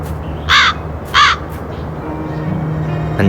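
Two loud, harsh raven caws from the video game Black Mirror 2 sound close together near the start, over a steady damp ambient background of rain-sodden, muddy grounds.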